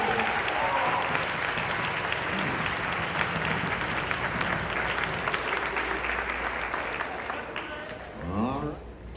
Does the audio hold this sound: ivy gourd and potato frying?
no